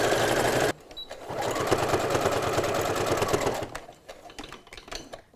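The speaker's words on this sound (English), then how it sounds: "I'm stitching on the same line I stitched earlier. Back stitch." Sewing machine backstitching along an earlier seam on a surgical mask, a steady close motor whir with rapid needle chatter running for about three seconds after a short burst, then stopping into scattered handling clicks.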